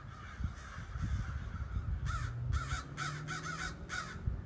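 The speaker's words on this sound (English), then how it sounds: "Literally in the Alfred Hitchcock movie, The Crows, right now" A flock of crows caws outdoors in repeated harsh calls, some overlapping, at a moderate distance. Steady low rumble and background noise run underneath the calls, and no one talks.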